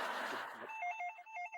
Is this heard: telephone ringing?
yes